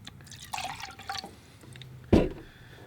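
Fresh water poured into a bucket beside a watercolor painting setup, a brief splash and trickle with a louder gurgling pour near the end, close and fairly quiet.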